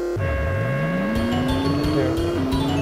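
Race cars launching at the start of a three-lap stock-engine race in the PS2 game Gadget Racers, engines droning and revving upward steadily, loud and close, with game music underneath.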